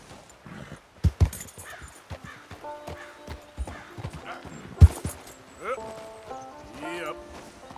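A horse gallops in the video game Red Dead Redemption 2, with rhythmic hoof clip-clops, occasional sharp thumps and brief whinny-like sounds, while a voice talks over the action.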